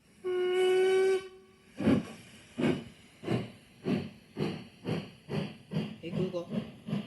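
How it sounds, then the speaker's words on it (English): A smart speaker plays a train sound: one long steam whistle blast, then rhythmic chuffing puffs of steam that quicken as the locomotive pulls away. "Google, what sound does a train make? This is a train."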